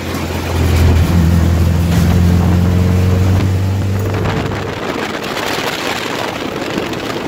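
Off-road cars driving in Baja by the Sea of Cortez, a loud low engine rumble with wind buffeting the microphone. The drone steadies and then eases off partway through.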